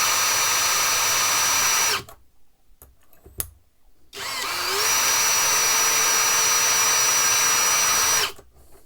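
Drill with a self-centering hinge bit boring the first hole for a hinge: a loud, close, steady whine for about two seconds, a pause, then a second longer run of about four seconds that stops abruptly.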